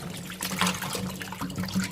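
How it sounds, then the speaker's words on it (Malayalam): Vegetables being washed by hand in water in a home kitchen, with gentle sloshing and trickling splashes continuing throughout at close range. "ഇനി വെജിറ്റബിൾസ് എല്ലാം നന്നായി ഉലച്ചൊന്ന് കഴുകിയെടുക്കണം"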